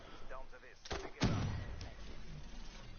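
Gunfire in the multiplayer mode of the video game Black Ops 3: a couple of quick punchy shots with a boomy thud, moderately loud over a faint game background with no speech.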